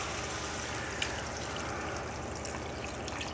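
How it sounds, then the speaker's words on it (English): Fresh water pouring steadily into a pot of kidney beans, a continuous close rushing trickle with no talking. "We're going to start off with some fresh water."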